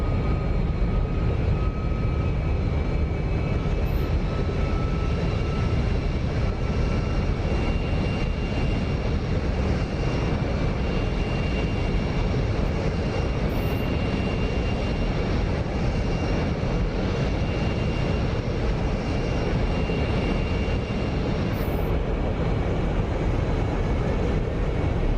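An F-22 Raptor jet flying in the DCS combat flight simulator gives a steady, loud engine roar with a constant tone that holds unbroken for the whole stretch, with no voices.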